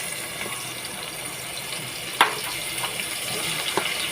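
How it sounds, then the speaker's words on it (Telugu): Onion pieces tipped into about three spoons of hot oil in a pan for a Telugu-style fish curry, giving a steady low hiss and sizzle throughout with one sharp clatter midway and a few small pops near the end. "ఇప్పుడు నూనె వేడైంది కదా ఉల్లిగడ్డల ముక్కలు వేసుకుందాం"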